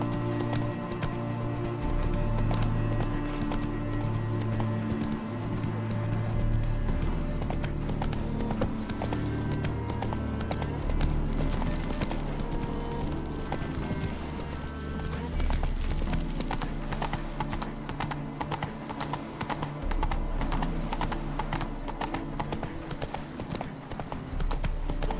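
Steady clip-clop of Roach's hooves, Geralt's horse in Witcher 3: Wild Hunt, trotting at an even rhythm under game music and ambience, with occasional jingling tack and a voice speaking over it.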